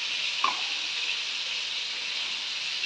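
Green chili, chopped tomato and other ingredients for a chana aloo curry fry in a pan, a steady, soft hiss of sizzling oil with one brief clink partway through.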